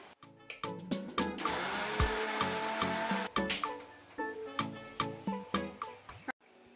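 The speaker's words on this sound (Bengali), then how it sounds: "মিক্সিতে দিয়ে দিলাম পালং শাক গুলিকে, এবার ভালো করে গ্রাইন্ড করে নেবো বা পিষে নেবো।" A kitchen mixer grinder whirs loudly while grinding fresh spinach leaves for palak paneer, a steady motor roar broken by repeated short pulses and clattering bursts as the blades start and stop.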